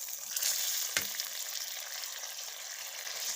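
Potatoes and tomatoes fry in a pan while being stirred, producing a close, steady sizzle with one distinct knock of the utensil against the pan near the start, and no voices.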